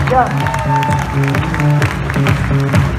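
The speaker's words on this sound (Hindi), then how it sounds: "सब लोग मिलकर जोरदार तालियों से उनका वेलकम करिए" Audience clapping to welcome the anchors at a stage event, a dense burst of applause mixed with voices and tonal sound.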